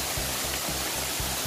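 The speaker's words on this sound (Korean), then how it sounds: "시원한 폭포가 다시 보이네요." A waterfall at Samseonggung in Cheonghak-dong, Korea, gives a steady, dense rushing roar that stays loud and constant throughout, with no voices.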